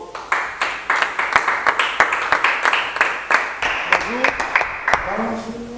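A game-show studio audience claps and applauds to welcome a contestant, a steady burst of clapping that fades toward the end, with a voice speaking over it.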